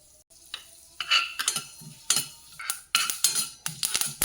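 Sharp crackling pops of mustard seeds spluttering repeatedly in hot oil, irregular and close, with clinks of a spoon or pan between them; no talking.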